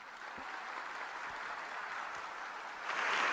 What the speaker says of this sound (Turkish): kardeşime kocaman bir alkış istiyorum